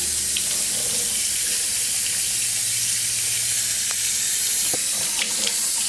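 Steady running water from a tap fills a basin while a pet capuchin monkey is bathed, a continuous hiss with a few faint knocks near the end and no talking.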